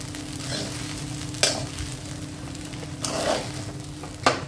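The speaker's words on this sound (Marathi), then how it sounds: "आता हा भात पूर्ण परतवून घेते." Spicy capsicum rice stir-fries in a pan with a continuous close sizzle, broken by a few sharp scraping strokes of the spatula as it is turned and mixed.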